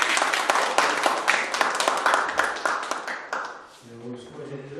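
Audience clapping after a lecture, brisk and fairly loud at first, then thinning and fading out as a voice begins speaking near the end.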